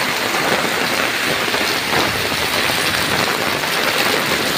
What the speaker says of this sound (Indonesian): cukup deras hujannya ya, angin ya, hujan angin.